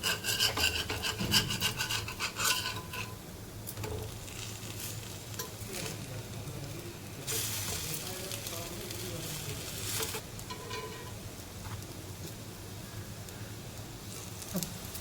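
Sago fasting thalipeeth fries in ghee and oil in a pan, a steady sizzle mixed with scraping and rubbing of a spatula, louder at the start and then settling into a continuous crackle.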